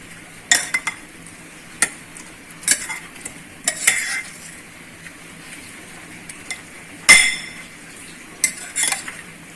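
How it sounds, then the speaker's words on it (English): A spoon mixes omelette batter in a bowl, with noodles involved in the dish. It makes close, irregular clinks and taps against the bowl, separated by quiet pauses, over a faint background hum. "We are going to mix it nicely."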